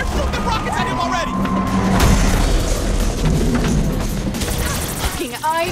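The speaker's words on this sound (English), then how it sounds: "Shoot the rockets at him already!" Rocket explosions in the video game Saints Row IV boom loudly and continuously through a chaotic battle, with heavy blasts and crashing debris layered over gunfire and game effects.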